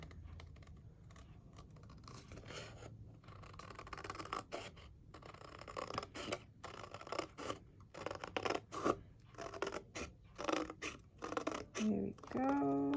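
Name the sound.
scissors cutting paper along a pencil line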